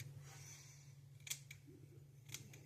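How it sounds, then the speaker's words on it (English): Scissors snip through mustache hair at close range, a few crisp isolated cuts spaced around a second apart over quiet room tone. "I like to just start trimming up to the level"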